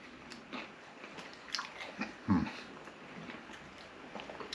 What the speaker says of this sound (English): So I'm going to try one of these. Like Doritos.